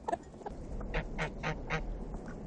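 Geese on a farm give a rhythmic series of four or five nasal honks, moderately close and alone, over a low steady background.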